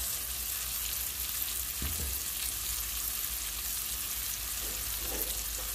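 Chicken breasts sauté in a pan with vegetables, producing a constant dense sizzle at low-moderate level, with one dull knock partway through and faint stirring scrapes near the end.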